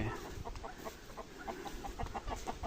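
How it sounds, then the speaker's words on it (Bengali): Chickens cluck repeatedly on a farm on a local island in the Maldives, a steady run of short, close-range clucks at moderate volume with no talking. "এদিক দিয়ে মুরগি হাঁটাহাঁটি করবে এবং তাদের যাওয়ার জায়গা আছে।"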